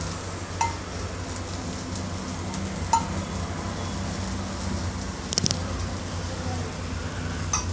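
Potato snack frying in oil on a pan, a steady soft sizzle running throughout with a few faint clicks, close by and fairly quiet.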